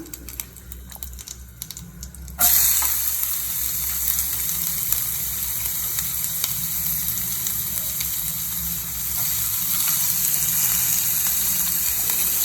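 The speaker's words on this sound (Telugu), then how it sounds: "ఓకే, సో ఇప్పుడు ఆయిల్ హీట్ అయింది. సో మనం ముందు ఆనియన్స్ వేసుకుందాం." Chopped onions dropped into hot oil for a spicy puffed-rice borugulu snack, starting with a sudden loud burst of sizzling after a quiet moment, then a steady, dense crackling fry that holds evenly to the end.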